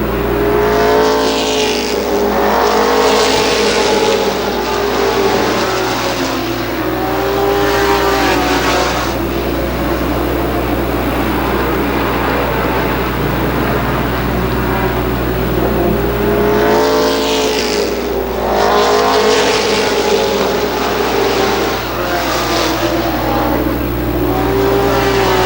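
Race cars roar continuously around the Columbus Motor Speedway oval in a 1995 season-opener race, engine notes swelling loudly as packs pass close by, with a steady engine drone between passes and no talk.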